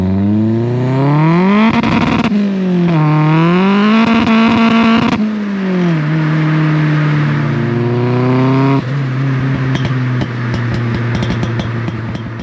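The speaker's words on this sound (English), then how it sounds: "The right amount of exhaust noise coming from the rear." Ford Escort Mk6 fitted with a Focus RS engine, turbo and exhaust, revving loudly and steadily with rising and falling engine pitch, a raspy exhaust note heard close up and alone for about twelve seconds.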